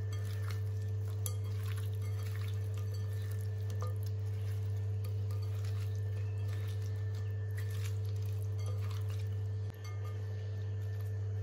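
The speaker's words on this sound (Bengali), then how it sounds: "এখন আমি নুন হলুদ মাখিয়ে এটাকে ভেজে নেব" Live tangra fish, rubbed with salt and turmeric, frying in hot oil in a pan, giving a steady sizzle with occasional clinks of a utensil, all over a loud, constant low hum.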